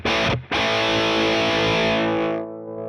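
Guitar played through an IK Multimedia Tonex pedal gives a thick, loud distorted tone: a sustained chord that cuts out briefly, is struck again and rings on, then fades toward the end. No talking.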